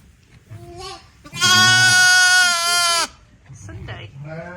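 Young lambs tucked indoors out of the rain bleat, one long loud, quavering cry standing out between a couple of shorter ones, with a person talking softly in the barn around them.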